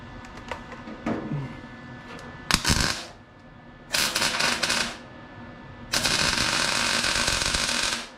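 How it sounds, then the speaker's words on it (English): Tack welds on a truck build, a few light taps and clicks followed by three bursts of crackling, spitting welding arc, the last one lasting about two seconds, with no voices. "Let me throw a tack weld in here."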